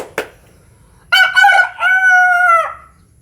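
A rooster crows once, loud and close: a short lead-in note, then a rising, drawn-out harmonic call lasting about a second and a half, after a brief cluck-like click near the start.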